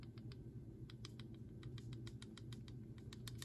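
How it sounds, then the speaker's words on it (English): Rapid light clicking from a Platinum Century 3776 fountain pen with a medium nib, a fast irregular series of small ticks running steadily over a low background hum. "don't know if you can hear that clicking noise"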